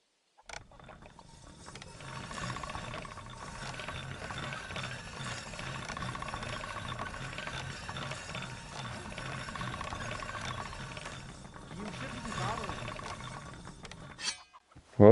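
A blade being sharpened on a rotating grindstone in Kingdom Come Deliverance 2: a steady, faint grinding and rasping with a rhythmic mechanical rattle, running continuously between brief pauses.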